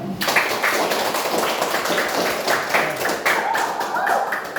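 Schoolchildren in a fifth-grade primary class clap their hands together, a dense, steady burst of close, loud claps running throughout with faint voices mixed in.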